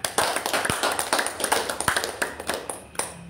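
A small audience at a religious gathering claps, giving a scattered run of sharp, irregular hand claps that is close and fairly loud and then tapers off near the end.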